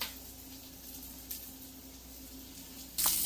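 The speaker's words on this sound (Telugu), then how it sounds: "ఉల్లిపాయలు వేగినాయి." Fried onions in a pan give a low steady sizzle, close but quiet, with a brief clatter midway and a sudden louder burst of hiss near the end.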